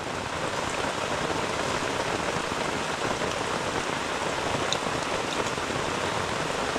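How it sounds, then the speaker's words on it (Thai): Heavy tropical rain pours steadily over a humid rainforest campsite during a storm, a dense, continuous hiss of drops hammering leaves and surfaces close by, with no voices. "ท่ามกลางบรรยากาศฝนตกกลางป่าดิบชื้นนะครับผม"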